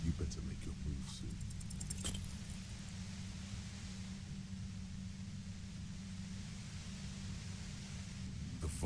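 Droning white-noise hiss of a compressor in the video game Disco Elysium, a steady broadband roar with a low hum that holds at constant loudness throughout, with a brief metallic jingle and clicks near the start.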